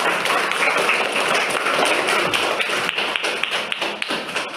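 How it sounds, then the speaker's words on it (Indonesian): Classroom of children clapping for a classmate, a dense burst of many small hands that stays strong and then thins into scattered claps and light taps toward the end. "Silakan duduk, saya beri tepuk tangan untuk temanku."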